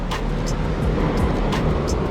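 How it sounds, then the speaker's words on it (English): Busy street traffic on a long, straight road in Hong Kong: a constant, loud wash of engine and tyre noise from passing cars and buses, with a few brief higher whooshes or squeals standing out, close by and without voices. "Hectic, hectic, lots of traffic."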